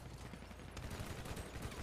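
Muffled burst of rapid gunfire in the video game GTA V, set in a roleplay gang war, heard as a dense rattling volley at a distance.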